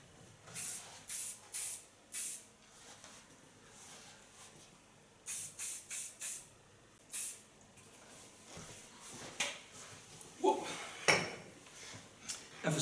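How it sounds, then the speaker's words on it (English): Hairspray hisses from a can onto long hair in a series of short, crisp bursts, some grouped in quick threes, with softer rustling and handling noises between them. "Hold your distance. It's very important with hairspray."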